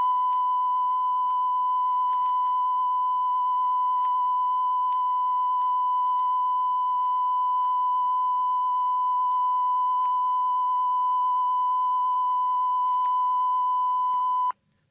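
A 1,000 cycle CONELRAD alert tone on 1955 radio, a steady pure beep held continuously for about fifteen seconds at even loudness with faint crackle beneath, then cutting off abruptly.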